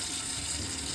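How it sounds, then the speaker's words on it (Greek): The first boiling water is poured away from a cooking pot while a leek fry with lemon is being made, giving a steady, full gushing rush of liquid that fills the whole moment. "Το πρώτο νερό το πετάμε."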